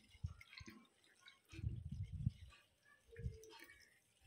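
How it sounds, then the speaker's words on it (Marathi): Water poured into a bowl of sliced bottle gourd (lauki), heard as a few short splashing bursts separated by pauses, close and fairly quiet. "यामध्ये पाणी घालायचं आहे"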